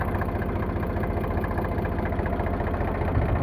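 An Eicher 38 tractor engine idles in a steady, even low rumble with a fast regular pulse, close and constant throughout with no other sounds.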